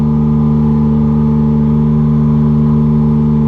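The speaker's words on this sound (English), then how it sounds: "let's wait a little bit till the engine is stable." An engine runs at a steady operating point on a test setup for combustion analysis, giving a loud, constant droning hum with no change in pitch or level throughout.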